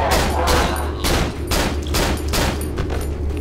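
Pistol shots in the Cry of Fear horror video game, a string of loud sharp cracks spaced roughly half a second apart, close and punchy, with a brief gap midway before firing resumes.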